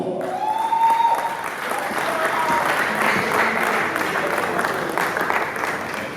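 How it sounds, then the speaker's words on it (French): An audience applauds as a speaker is welcomed onstage at a sound festival in Kinshasa, giving a loud, dense, sustained wash of clapping that holds throughout. "Et Monsieur Malafis, s'il vous plaît, sur la scène sous vos applaudissements."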